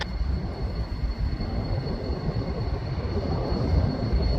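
Union Pacific 5833 locomotive leading a freight train as it rolls past up close, a steady broadband rumble of wheels and cars holding even and loud throughout with no voices.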